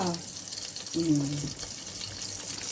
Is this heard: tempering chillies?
yes